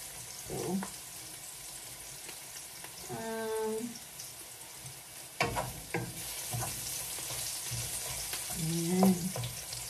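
Garlic and onion fry for adobo in a pan, a quiet steady sizzle with occasional clatters and short bursts of activity.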